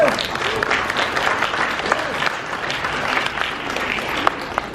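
Audience applause at a horror convention panel, a dense mid-level patter of many hands clapping that rises and fades slightly, with some voices mixed in.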